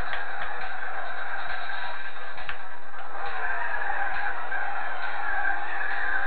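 Race car braking hard with tyres skidding in Gran Turismo 4, a Honda S800 RSC racing against a Cizeta V16 T, heard as a continuous high screech over engine drone with a few short bumps and no talk.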